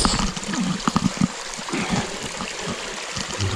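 A shallow stream is waded through on foot, with sloshing splashes and gurgling trickles close by, the steps coming as uneven bursts early on and then giving way to softer running water.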